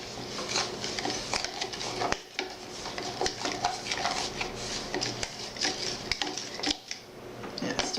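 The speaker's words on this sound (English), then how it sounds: "Okay, go ahead and stir that up." A spoon stirs yeast with water and sugar in a container, making quick, irregular clinks and scrapes against the sides, close and fairly quiet in an indoor room, with faint background voices.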